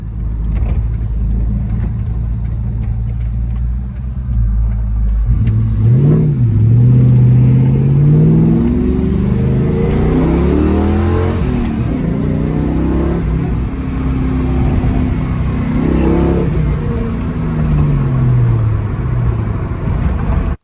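A Ford Mustang New Edge engine running loudly and steadily up close, with repeated revs that rise and fall over a constant throaty idle.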